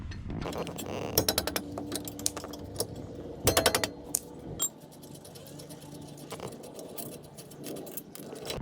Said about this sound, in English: There's two bolts right here I got to remove, 14 millimeter bolts.